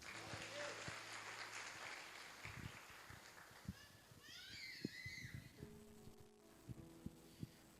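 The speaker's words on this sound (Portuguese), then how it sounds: "Vamos receber o pastor Dantas com uma salva de palmas." Crowd clapping fills a church service hall, mixed with scattered voices and background chatter, fairly distant and moderate in volume.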